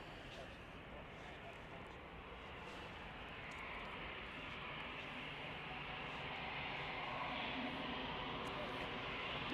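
A jet airliner bound for Fuerteventura roars steadily on takeoff from Manchester Airport, its broadband engine noise swelling gradually as it climbs, with speech faintly underneath.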